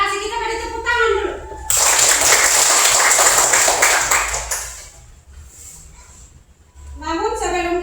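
A classroom of children bursts into clapping for about three seconds, loud and close, then fades out. Someone speaks before and after the applause, and children's voices carry underneath.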